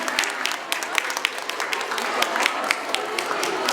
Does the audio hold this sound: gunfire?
no